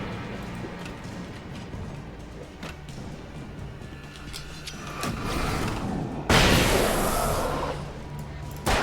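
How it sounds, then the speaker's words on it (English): A flashbang grenade detonates in the video game Alan Wake, a sudden loud broadband blast that lingers as a bright hiss for over a second, rising out of a steady bed of game ambience and rumble. "I'm gonna have to use one of those flashbangs right now."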